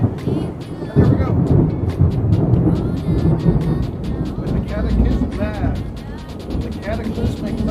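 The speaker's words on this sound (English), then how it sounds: "the cataclysmic thunderstorm in the background" A heavy, rumbling thunderstorm with steady rain and wind fills the background, continuous and loud with crackling bursts, while a voice speaks briefly over it.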